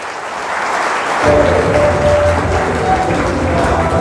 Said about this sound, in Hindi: आप आए इसके लिए सब जन तालियां बजाइए